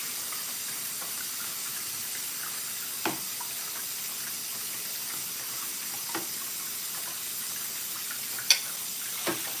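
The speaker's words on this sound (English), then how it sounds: "I'm just gonna rinse this." Water runs from a kitchen tap in a steady soft hiss while a pot is rinsed, with a few faint clinks and knocks scattered through the flow.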